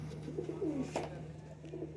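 Cross-bred band pigeons coo softly and close by, a few low rolling calls over a steady background hum.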